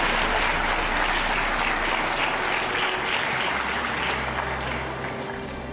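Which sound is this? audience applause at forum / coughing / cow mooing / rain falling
audience applause at forum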